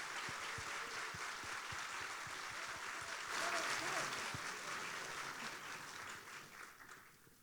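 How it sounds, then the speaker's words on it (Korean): A hall full of people claps steadily at a New Year work-opening ceremony, the applause close and sustained, swelling slightly midway before tapering off at the end. "다시 한번 수고해 주신 두 분께 큰 박수 보내드리길 바랍니다"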